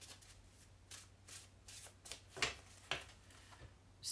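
A deck of Wizard's Tarot cards is shuffled softly, giving a quick series of riffling and slapping strokes that ends with a few sharper snaps, quiet and close.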